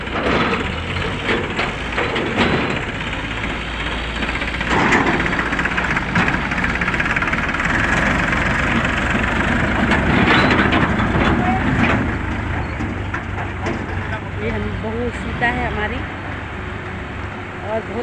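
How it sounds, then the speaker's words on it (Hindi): A JCB machine works in a river in a hilly area, its heavy diesel engine rumbling steadily and loudly throughout, with people talking over it. "प्रगति पे जेसीबी मशीन लगी हुई है"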